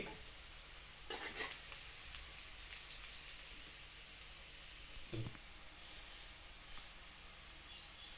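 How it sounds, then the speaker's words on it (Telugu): Onion pieces fry in a pan with a soft, even sizzle, punctuated by a few short bursts of spatter and stirring scrapes; quiet overall, with no talking. "ఉల్లిపాయ ముక్కలు దోరగా యాగనివ్వాలండి"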